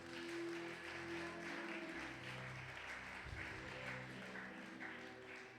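A church congregation at a Sunday thanksgiving worship service applauds steadily and warmly for several seconds, a dense sustained clapping over a low organ-like hum.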